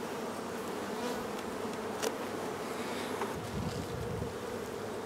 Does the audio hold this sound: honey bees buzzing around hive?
yes